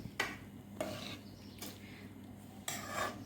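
Kathiyawadi-style chana dal tadka is mixed in a pot with a spoon. Four brief scraping clinks of utensil against metal sound quietly and close, with a soft background hiss between them.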